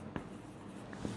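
Pen or pencil writing on paper while working a class 7 maths problem, quiet scratchy strokes with a couple of light taps, under a steady low background hum.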